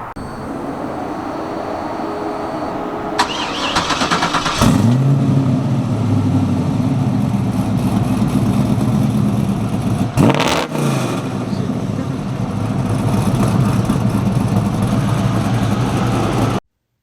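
A loud supercharged 1969 Camaro engine (600 wheel horsepower) drones and revs steadily while driving, with rising and falling pitch and one brief shift partway through, close and continuous.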